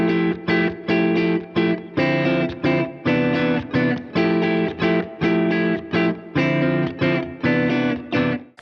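Math rock electric guitar strumming a repeating pattern of minor ninth and major ninth chords with displaced accents on the offbeats, loud, choppy and rhythmic, with crisp muted gaps between bursts and played alone.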